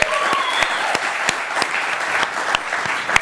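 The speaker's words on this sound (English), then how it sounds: "Let's all give him a round of applause." Studio audience applause from a talk show, dense and steady clapping at close range with a few sharper claps standing out, alone without voices.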